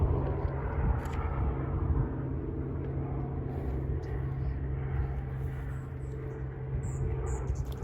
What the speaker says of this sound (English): right next to the airport, as you've probably heard, the planes.